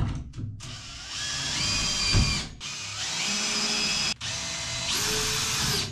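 A power screwdriver drives screws into a drywall (Rigips) panel set against a wall, giving several whirring bursts with short pauses between them, close and fairly loud.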